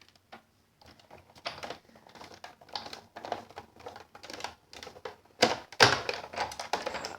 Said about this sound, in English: And then we are going to run that through the Big Shot.